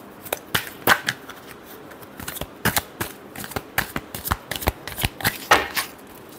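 A deck of tarot cards is shuffled close by in crisp riffling bursts and slaps. The strokes come in an irregular, quickening rhythm with no talking over them.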